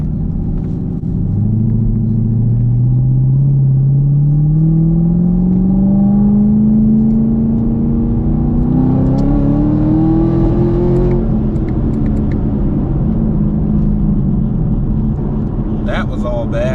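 A ProCharger-supercharged car engine revs hard through a pull, its rising drone climbing steadily for about ten seconds before it drops off and falls back to a rough idle, with a voice audible at the end.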